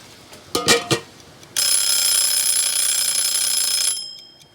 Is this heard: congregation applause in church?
no